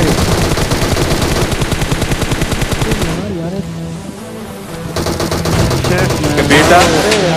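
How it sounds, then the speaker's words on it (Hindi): Rapid gunfire rattles in dense bursts that pause briefly and then resume, loud and close, with a voice speaking under the shots. "इतनी गोली चल है कि छर्रा बीनत बीनत करोड़पति हो जाओ"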